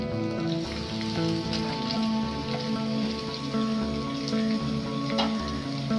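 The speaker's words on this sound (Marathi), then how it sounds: "हा कांदा आपल्याला चांगला परतून घ्यायचा आहे चांगला तांबूस कलर व्हायला पाहिजे" Finely chopped onion sautéing in oil in a pan over medium heat, a steady close sizzle and crackle that runs the whole time without a break and with nobody talking.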